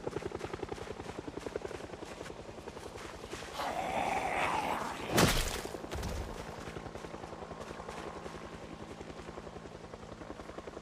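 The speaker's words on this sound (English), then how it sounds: "as you can hear, there's a helicopter" A helicopter's rotor thumps steadily throughout in the video game Project Zomboid, loud and close, with a brief burst of noise midway and a rising whoosh.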